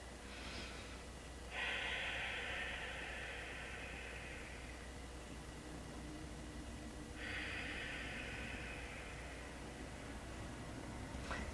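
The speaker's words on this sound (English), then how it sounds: "Few breaths here, just relaxing, finding your breath. Inhaling and exhaling in 4 counts." Slow breathing in yoga child pose, two long airy breaths close to the microphone, each lasting several seconds, separated by a quiet pause, over faint background hiss.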